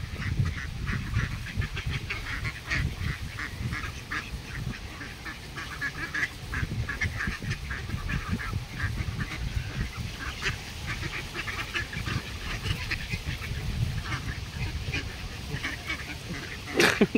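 A flock of ducks fed bread quacks and squabbles continuously, many birds calling at once close by, a busy overlapping chatter that goes on throughout.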